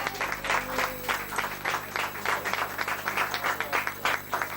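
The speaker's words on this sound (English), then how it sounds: "Folks, I think Marie deserves a big round of applause for all that she has done." Audience applause for Marie at a centenary gathering in Herlihy's pub in Farranfore, with a steady wash of clapping that holds at a moderate level from start to finish.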